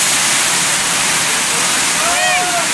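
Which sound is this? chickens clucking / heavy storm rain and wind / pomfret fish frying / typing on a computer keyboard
heavy storm rain and wind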